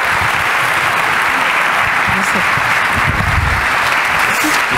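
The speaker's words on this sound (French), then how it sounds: "On peut vous applaudir." Sustained, dense applause from a conference audience thanking two speakers, steady and loud throughout with no pauses.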